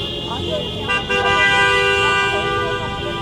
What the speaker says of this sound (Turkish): Kornaya basmayı da seviyorlar.